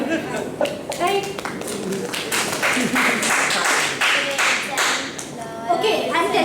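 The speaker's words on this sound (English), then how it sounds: "We're clapping for her" An audience at a talk on identifying wading birds breaks into scattered, lively clapping, mixed with chatter and children's voices throughout.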